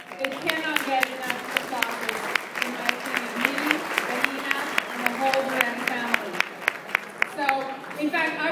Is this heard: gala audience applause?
yes